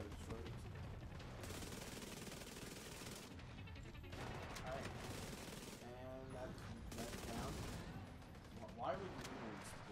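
Sustained turret gunfire in The Division 2 rattles in quick automatic bursts at moderate distance, fairly quiet overall, with players talking over it.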